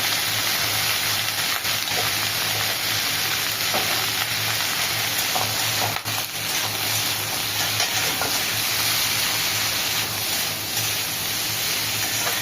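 Sliced bitter gourd fries in oil with turmeric and salt, a steady close sizzle with occasional soft stirring scrapes, continuous and unbroken throughout.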